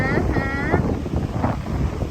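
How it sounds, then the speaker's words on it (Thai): Strong wind blows steadily across the microphone at a winter beach in Hua Hin, a loud continuous rumble with faint voices beneath it. "ลมพัดก็ปิวแล้ว"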